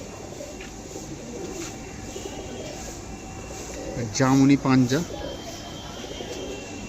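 Black-beaked, large-feathered pigeons at a pigeon sale coo softly and steadily in the background, while someone speaks briefly and more loudly over them near the middle.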